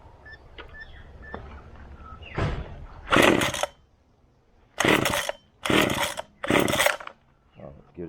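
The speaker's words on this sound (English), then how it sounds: "Technically this is the missus' chainsaw" A chainsaw is being started with several sharp, rasping pull-cord bursts close by: one, a pause, then three in quick succession. Quiet handling noises fill the gaps, and the engine never settles into a clear running note.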